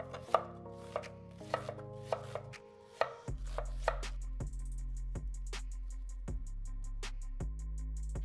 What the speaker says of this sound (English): I'm going to shred my fresh vegetables to prepare a salad